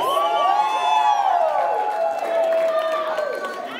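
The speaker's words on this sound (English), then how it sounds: "First dance moment, a round of applause, Mr. Ignacio doing his recording" A crowd of wedding guests cheers and whoops loudly during the first dance, with applause and excited shouting filling the room throughout.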